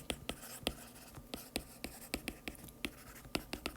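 Marker or chalk writing on a board during a university math lecture on unitary diagonalization, with sharp, irregular taps and short strokes, fairly faint and close, and no talking.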